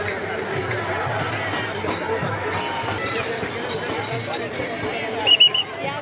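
A dense crowd of pilgrims at the Dnyaneshwar palanquin procession during the Ashadhi Wari fills the air with continuous babble and shuffling, close and steady, with a few sharper clinks and knocks near the end.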